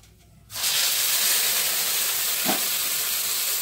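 Chopped onion hits hot oil with a sudden loud sizzle that keeps hissing steadily, close and alone, in a home kitchen where an egg-fritter curry is being cooked.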